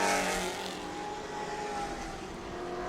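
Pro trucks racing at New Smyrna Speedway during qualifying, a steady engine drone with a sustained whining tone that slowly shifts pitch, heard at a moderate distance without talk.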